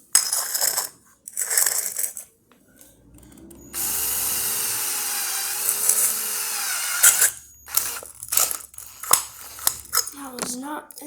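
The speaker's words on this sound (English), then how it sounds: "we're gonna drill a hole right in the center" A drill bores a hole in the center of a can top while building an alcohol stove: a close, steady whirring whine lasting several seconds, bracketed by clicks, scrapes and handling noises, with people talking before and after.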